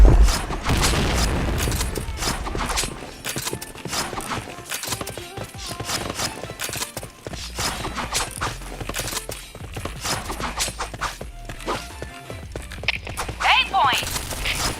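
Grenade blasts and gunfire in a video game shooter, with dense, rapid bursts and booms piled over a constant battle din, loud and continuous throughout, mixed with shouted in-game voice callouts.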